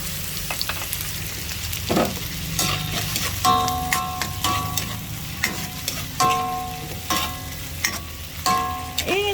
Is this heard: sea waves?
no